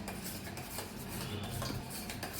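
Beaten egg with chopped coriander, salt and milk stirred in a bowl with a spoon: a steady run of soft metallic scraping and clinking, close and moderately quiet, with no voices.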